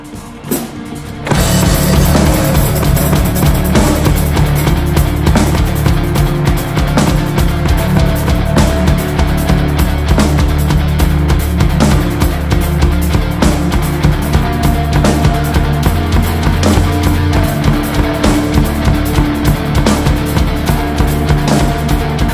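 Drum kit playing the verse beat of a song at full speed, a dense, loud, driving pattern of kick, snare and cymbals that starts after a brief lead-in and continues without a break.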